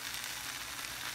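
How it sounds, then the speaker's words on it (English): Close, crackling sizzle of an egg and cheese frying in a hot pan, a dense, steady spatter with no talking. "Let it sizzle, let it fry that cheese"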